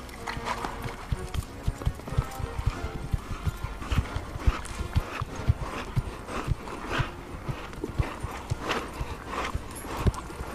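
Horse hooves clip-clopping on an arena surface during piaffe, the on-the-spot trot of classical dressage at the Spanish Riding School in Vienna, a steady rhythmic series of close, distinct strikes with no talking.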